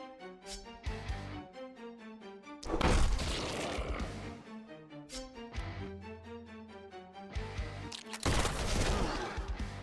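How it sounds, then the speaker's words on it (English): Pistol shots in the fantasy strategy game The Last Spell ring out amid game music, with a couple of sharp, noisy cracks and impacts standing out among melodic tones. "The pistol shot's so great."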